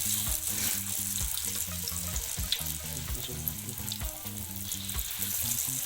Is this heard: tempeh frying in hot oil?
yes